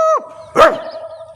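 A voice imitates a dog, giving a sharp, loud bark after a short vocal yelp, then a trailing tone.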